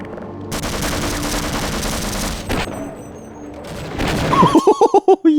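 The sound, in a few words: gunfire in Half-Life mod video game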